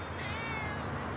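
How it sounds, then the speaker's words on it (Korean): A cat meows in a GTA5 animals mod video game, a single drawn-out cry heard close and clear over a steady backdrop of game ambience. "고양이 울음소리도 나오고 있어요."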